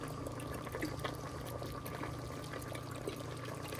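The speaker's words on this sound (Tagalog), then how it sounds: "Tapos lalagyan pa natin ng konting tubig." Water pours steadily into a cooking pot for several seconds, a continuous close splashing trickle with no talking.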